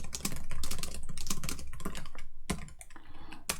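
Fast, steady typing on a computer keyboard during a Python coding session, with close, crisp clicks in an uneven rapid rhythm and a couple of brief pauses.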